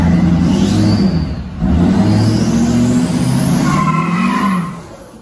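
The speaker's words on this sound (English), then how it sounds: "smoke those tires" A 1200hp Duramax diesel truck roars close and loud with its tires spinning and smoking, a sustained heavy engine drone that dips briefly near the middle before surging again and fading at the end.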